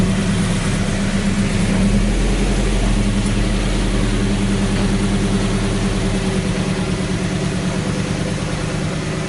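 A Subaru BRZ engine runs steadily while backing up, a loud, close, continuous low rumble with a constant texture throughout and no talking.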